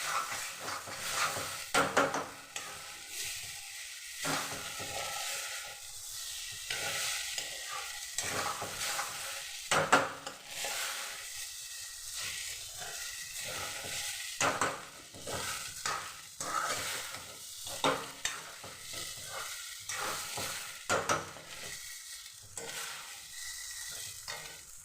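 Cumin and coriander fry in a pan for homemade biryani masala, a continuous sizzle broken by frequent scraping stirs and clatters of the spoon, close and fairly loud, with no speech.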